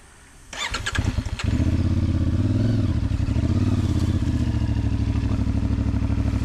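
A CFMOTO 450MT motorcycle starts up close by with a brief clattering crank, then settles into a loud, steady, throbbing idle that holds without pause.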